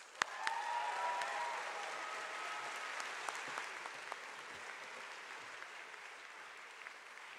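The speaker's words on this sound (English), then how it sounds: "invite you to applaud their accomplishments" An audience at a social work school commencement ceremony applauds steadily, a soft, even wash of many hands clapping that holds at a moderate distance throughout, with a faint whistle early on.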